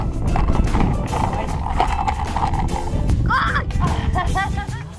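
A horse during equine therapy clip-clops with rapid irregular hoof thuds, close up, mixed with snorting and whinnying sounds, while a person talks over it.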